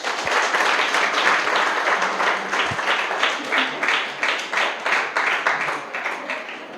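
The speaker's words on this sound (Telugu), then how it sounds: "మాకు బాగా అర్థమైందన్న వాళ్ళు గట్టిగా చప్పట్లు కొట్టండి ఒకసారి" A church congregation at Sunday worship claps loudly and together, a dense burst that settles into strong rhythmic beats before tapering off slightly near the end.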